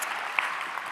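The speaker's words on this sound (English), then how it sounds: "round of applause" Keynote audience at Cisco Live 2025 in Melbourne applauding, a brief dense patter of many hands clapping at a steady level.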